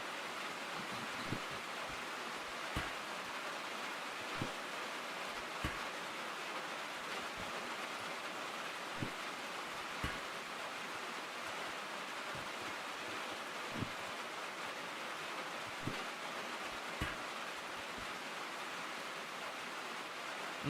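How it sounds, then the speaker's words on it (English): Steady rain drums on metal sheet roofing in the Derail Valley train game, a dense continuous patter with occasional sharper drips and knocks standing out, no voices. "The soothing sounds of rain hitting metal sheet roofing."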